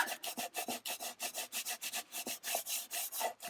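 Dried adhesive being rubbed off a patterned paper craft card, a quick, steady series of close scratchy rubbing strokes in a regular back-and-forth rhythm, with no talking.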